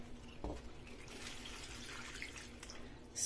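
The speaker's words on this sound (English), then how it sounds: "Adding water." Water poured into a cooking pot lined with foil, a soft steady trickling and splashing that runs close and alone at low level, with no talking over it.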